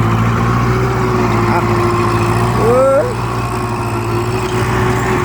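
A Kubota L5018 tractor plowing a rice field gives off a steady, droning engine hum that holds throughout, with people talking over it.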